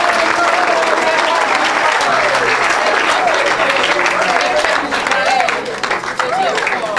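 A church congregation breaks into sustained applause and cheering, dense clapping with excited voices and shouts mixed throughout, loud and continuous.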